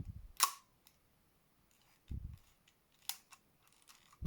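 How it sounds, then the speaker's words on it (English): A Russian clone of the Nikon SP rangefinder camera, which has a horizontal shutter, gives a sharp shutter click followed by softer mechanical clicks and ticks of the advance and mechanism, close and quiet. "halfway until you hear a click, and then the rest of it is for the shutter itself"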